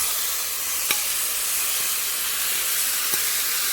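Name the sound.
green gram added to hot pan, sizzling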